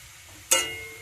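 Tela kochi greens being stirred in a hot pan give a sudden burst of close sizzling that flares up loudly and then slowly fades.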